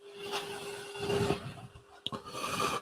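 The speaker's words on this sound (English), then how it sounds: "Okay, a little bit of sanding." A small turned wooden scoop is sanded by hand, making soft rasping strokes in uneven bursts close up, with a steady low hum running underneath and a sharp tap near the end.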